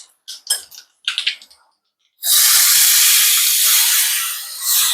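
Hot oil for Gujarati dal tempering with mustard seeds, cumin and asafoetida bursts into a loud, sustained sizzling hiss, preceded by a few short clattering sounds, then slowly fades slightly.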